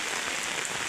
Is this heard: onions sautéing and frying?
no